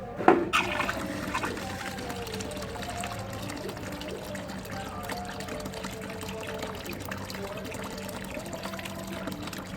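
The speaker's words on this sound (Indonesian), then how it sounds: "saya buka air sekarang" Tap water gushes through a fitted elbow into an automatic float valve, opening with a splashy burst and then settling into a steady, even rush of flowing water.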